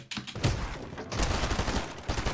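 Rapid gunfire during a Fortnite Solo Victory Cup replay, a dense burst of overlapping shots and impacts filling the short moment, loud and near with a brief gap partway through.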